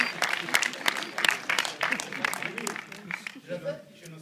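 Audience applause, a steady wash of many hands clapping in a room at moderate loudness, with a voice speaking through it and the clapping thinning out toward the end.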